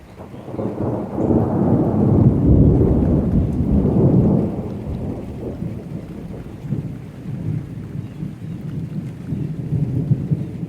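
Thunder rolls almost nonstop through a storm with frequent lightning all around, swelling into a loud low rumble before easing, with steady rain hissing underneath and no voices.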